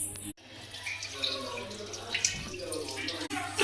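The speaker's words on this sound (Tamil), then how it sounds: "நமக்கு தேவையான தண்ணி ஊற்றிக்கலாம்." Water is poured into a pot of chicken biryani rice in a home kitchen, a soft, continuous splashing and trickling at close range with a couple of light knocks. A voice speaks over it.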